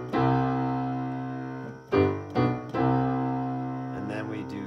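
Chords of the worship song Trading My Sorrows played on a keyboard, sustained rich harmonies with a few rhythmic, syncopated chord changes, clear and close with no talking.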